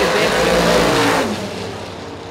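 Drag racing car with a two-barrel carburetor roaring hard at launch, a loud close engine blast that holds for about a second, then fades as the car pulls away.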